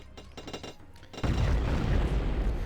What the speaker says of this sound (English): When you get close enough to them, they spring up, and they unveil a little surprise. In these two's case, it's going to be grenades.